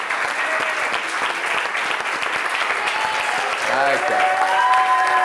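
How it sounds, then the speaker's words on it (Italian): A group claps together on cue for a sports broadcast camera, steady close applause with a voice speaking briefly near the end as the clapping swells. "così facciamo un applauso tutti insieme a favore di telecamera."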